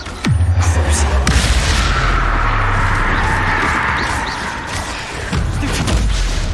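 Spell impacts in the video game Hogwarts Legacy land as loud booming blasts and thuds over continuous rumbling game effects, with repeated heavy hits across the whole stretch.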